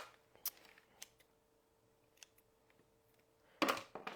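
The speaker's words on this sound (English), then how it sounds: "we're just going to cut that part off" Scissors cut material for a sublimation craft project, giving a few sharp, quiet snips spaced apart in a hushed room, with a louder final cut near the end.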